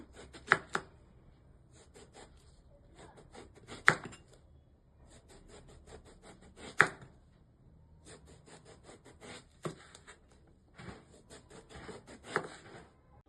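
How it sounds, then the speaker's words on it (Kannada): Brinjal sliced thinly with a knife for tawa fry, repeated crisp cutting strokes in clustered bursts with sharp knocks on the board, close and quiet with no voices. "ಮೊದಲಿಗೆ ಇದನ್ನ ಕಟ್ ಮಾಡ್ಕೊಳ್ಳೋಣ. ತೆಳ್ಳಗೆ ಕಟ್ ಮಾಡ್ಕೊಳ್ಳೋಣ, ದಪ್ಪಕ್ಕೆ ಬೇಡ."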